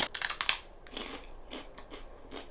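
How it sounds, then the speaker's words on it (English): Crunchy Colombian cheese rosquitas, puffy ring-shaped snacks, bitten with a sharp loud crunch, then chewed in several fainter, uneven crunching bursts close to the mouth. "These are a classic snack in Colombia. They're like puffy donut rings made of cheese, and each is extra crunchy."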